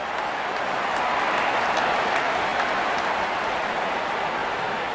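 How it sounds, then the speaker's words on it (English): A cricket stadium crowd at a Sri Lanka versus Afghanistan one-day international applauds a half-century with dense, sustained clapping, broad and steady throughout, heard from a distance with no voices over it. "Wonderful 50 and the crowd applauds."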